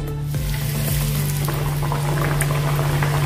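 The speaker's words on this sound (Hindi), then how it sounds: "अभी हम अपनी पूरी डालेंगे इसमें" Jowar puris fry in hot oil with a steady bubbling sizzle close by, carrying a constant low hum beneath it.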